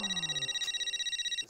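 A telephone rings in a sitcom household scene, a steady electronic trilling ring repeating rapidly for about a second and a half, fairly loud and alone, with a brief low tone sliding down at the start.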